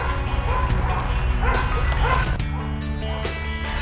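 Many dogs bark and yip at once, among them young adolescent puppies, in a crowded shelter holding about 500 dogs in Vinnytsia; the barking is dense, overlapping and continuous, with some whimpering throughout.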